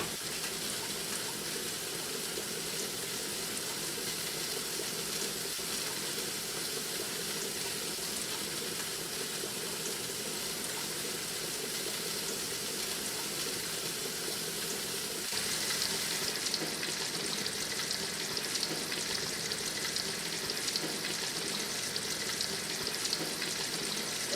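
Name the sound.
chicken frying in a pan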